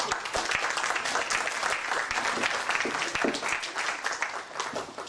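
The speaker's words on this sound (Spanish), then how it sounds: "Recibimos con fuertes aplausos a Natalia entonces." Dense, steady audience applause fills a conference hall on education and democracy as a speaker is welcomed, a loud, continuous wash of many hands clapping with no talk.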